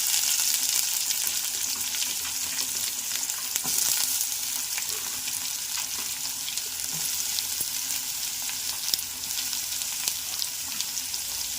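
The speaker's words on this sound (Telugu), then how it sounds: "ఉల్లిపాయ ముక్కలు చక్కగా వేగాలండి" Chopped onion frying in hot oil with curry leaves in a pan for a radish stew, a steady close sizzle with scattered crackles and faint stirring clinks throughout.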